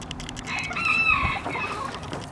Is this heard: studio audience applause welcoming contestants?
no